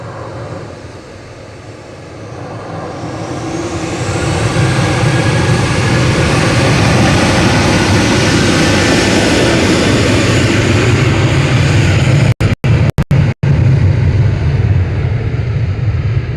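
TUI Boeing 737-800 departing Manchester Airport, its jet engines swelling from a distant rumble into a loud, sustained roar, with a few brief dropouts near the end.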